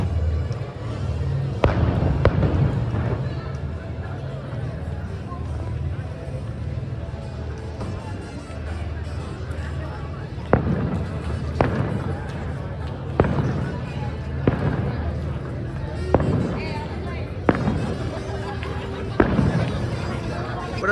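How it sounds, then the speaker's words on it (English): Fireworks burst at Disneyland at night in a string of sharp booms at irregular intervals, some close together. The bangs stand out over a steady wash of crowd noise. "There's some fireworks going off here."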